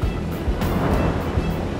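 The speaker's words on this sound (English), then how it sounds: "We're getting pounded by these waves." Heavy sea waves of six to seven feet slam against a floating plane, a dense low roar of surf and wind buffeting the microphone throughout, loud and close, with brief splashing surges.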